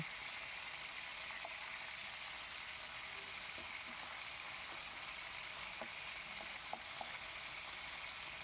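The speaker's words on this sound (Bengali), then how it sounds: "আমি এবার মাছগুলোকে বেশ সুন্দর করে ভেজে নেব" Pieces of Bhetki fish frying in oil in a pan give a constant, even hiss with scattered small pops and crackles, heard alone without any talk.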